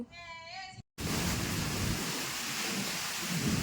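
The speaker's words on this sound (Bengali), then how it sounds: "এত জোরে বৃষ্টি হচ্ছে কি বলবো" Heavy rain pours in a dense, steady roar outdoors during a storm with a low rumble of thunder underneath, preceded by a short tonal, voice-like sound and a moment of silence.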